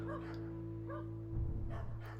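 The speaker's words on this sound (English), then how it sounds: "Dogs barking and shit" Dogs barking in a few sharp, yelping bursts, close and loud over a steady low hum, with a brief busy rumble between barks and no voices.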